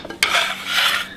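An onion drops into a bowl with a sharp clatter, then a brief ringing scrape of crockery as it settles in a home kitchen while Southern-style Salisbury steak is being prepared.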